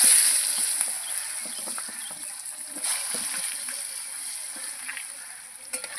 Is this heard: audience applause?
no